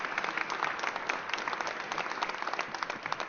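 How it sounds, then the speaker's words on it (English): An audience at a Philadelphia mayor's press conference gives a sustained round of applause, dense steady clapping from a crowd filling the room with no speech over it. "can we give a big, big round of applause to Jack Ferguson and the entire PHL CVB team"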